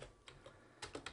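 Soft keystrokes on a computer keyboard, a few quiet taps with a quick cluster near the end, close and faint.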